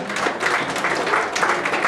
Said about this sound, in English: Let's give our cooks a great big round of applause